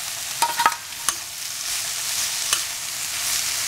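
Cut parotta pieces tossed into a hot pan with paneer and mushroom for veg kothu parotta, a continuous sizzle with a few quick spatula scrapes and knocks near the start.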